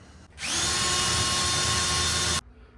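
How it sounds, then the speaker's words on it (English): A power drill whirs steadily for about two seconds, backing Phillips screws out of a truck cap hinge on a farm truck, loud and close, with no talk over it. "I'm going to have to take this hinge off because that hinge, the inside Phillips heads are keeping this part attached."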